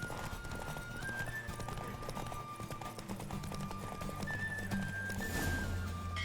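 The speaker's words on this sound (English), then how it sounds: "Don't spare the horse." Rhythmic clip-clop of horse hooves at a quick pace during a horse race in The Witcher 3: Wild Hunt, layered over music with sustained tones.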